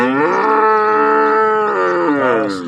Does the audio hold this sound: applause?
no